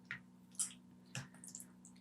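Thick Velveeta cheese sauce being stirred into packaged lasagna with meat sauce, giving a few soft wet squishes and drips at close range against a low steady hum.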